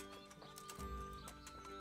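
A horse in the medieval role-playing game Kingdom Come: Deliverance snorts and whinnies with hoof clops, close and clear, over a faint ambient game background with no talk.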